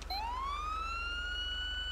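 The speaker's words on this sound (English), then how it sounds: "I'm going to let you hear the new siren that you just installed inside your game." A Carson SA 365 police siren on a Tahoe in the GTA 5 LSPDFR game sweeps upward and then holds a steady electronic wail with bright harmonics, heard clearly over a low steady hum.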